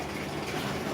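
Water pouring steadily into a bath at a home in hot weather, a continuous broadband rush filling the short moment without pause or voices.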